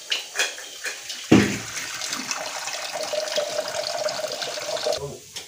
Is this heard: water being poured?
yes